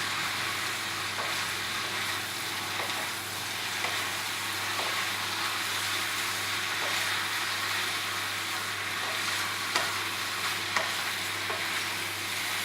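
Spaghetti stir-fried with meat and spring onion sizzles loudly in a hot pan, a constant hiss broken by the scrape and clatter of stirring, close by and unbroken by speech.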